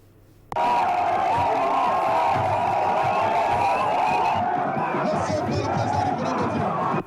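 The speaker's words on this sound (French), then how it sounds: "C'est une foule immense qui a assisté au meeting du principal mouvement d'opposition à Yamoussoukro" A huge crowd at an opposition political rally in Yamoussoukro cheers and chants in a loud, steady roar with whistle-like tones, sustained throughout, while a voice speaks over it.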